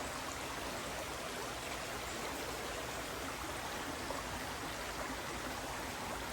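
Creek water flows in a steady, close, broadband rush that stays even and continuous throughout, with no voices over it.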